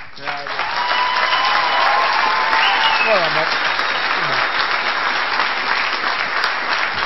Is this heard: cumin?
no